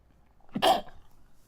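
A single sharp sneeze bursts out near the mic during a Pokémon card game League Cup final match, preceded by a short intake of breath and followed by quiet.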